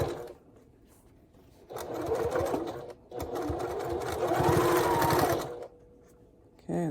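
A sewing machine stitches a heart pouch seam at a half-inch allowance, running in two close, loud bursts of rapid whirring with a short pause between them and quiet gaps either side.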